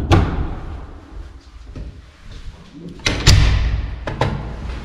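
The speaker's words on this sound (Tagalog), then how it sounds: "Tingnan itong pinto." A broken door is moved and knocked, giving scattered thumps and a sharp bang near the middle followed by rattling knocks, close and fairly loud against a rumbling room background.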